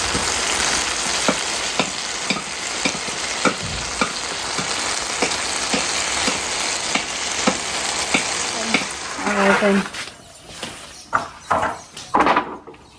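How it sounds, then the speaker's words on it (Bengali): Loud, steady sizzling of okra frying in a wok, with rhythmic stirring scrapes, then clattering utensil knocks toward the end. "এই কড়াইটাতে ভাজাভাজি করতে তো ভীষণ ভালো লাগে"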